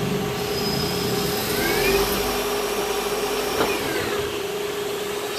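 A mill-turn lathe cuts metal dry, without coolant, giving a steady high whine with sustained tonal lines and a brief sharp tick partway through, constant and close.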